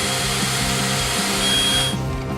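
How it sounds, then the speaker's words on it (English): An oscillating multi-tool cuts through metal, a loud close continuous buzzing whine that holds steady for about two seconds before easing off. "Yeah, thank God for that multi-tool."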